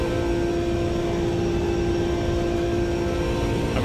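Race car engine held at full throttle at Monza in the Automobilista 2 video game, a loud sustained drone with a steady high whine, continuous and unbroken with no talk.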